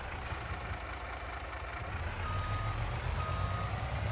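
A farm truck reverses to park in the Farming Simulator 22 video game, steady electronic reversing beeps sounding over a continuous low engine rumble with broadband mechanical noise and no speech.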